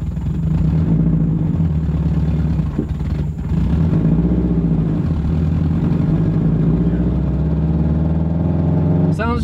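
A Subaru engine idles roughly with a badly struggling clutch, giving a continuous low, uneven drone with a brief dip partway through, while people talk over it.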